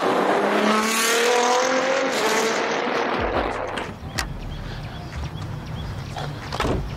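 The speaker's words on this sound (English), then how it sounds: "This car also comes with fully custom titanium exhaust. Sounds crazy." A 1000 hp Nissan GT-R roars loudly through a custom titanium exhaust, revving high and raspy, then settles into a rumbling idle with popping crackles.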